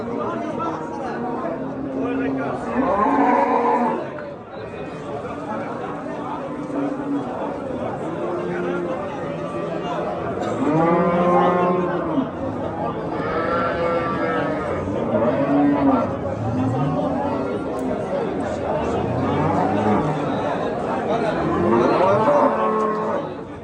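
Cattle low again and again at the busy Kattaqo'rg'on livestock market, long drawn moos from several animals near and farther off over a steady babble of crowd chatter.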